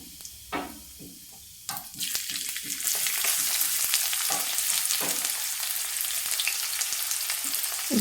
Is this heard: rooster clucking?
no